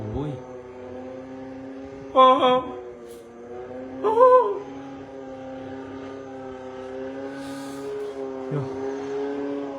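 A steady, low boat engine drone on a canal with a droning harmonic hum runs throughout, nearby and constant, with a couple of short exclamations from a voice.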